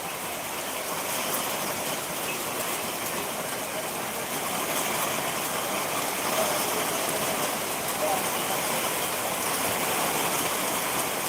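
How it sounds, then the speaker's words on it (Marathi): Heavy monsoon rain with wind at Jewali, a steady dense roar of downpour filling the whole scene with a continuous hiss and no breaks. "बघू शकता पाऊस कशा पद्धतीनं पडत आहे"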